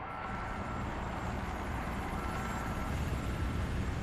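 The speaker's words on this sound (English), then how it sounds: "Okay, I got a chopper inbound. It's a Hind." A Hind military helicopter arrives in an action film scene, a steady low rotor and engine rumble with a continuous broadband roar, moderately loud and unbroken, with no voices.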